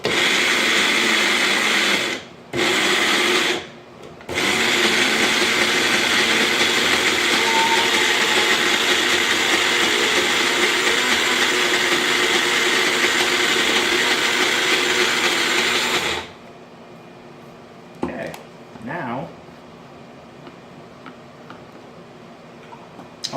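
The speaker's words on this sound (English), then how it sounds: "if you're going to do an upside down blender like this, yeah, you want to put your basil in last so it is closest to the blade" An upside-down blender whirs loudly and continuously as it purees basil with other ingredients, briefly cutting out twice early on before stopping, followed by a few quieter clicks and knocks.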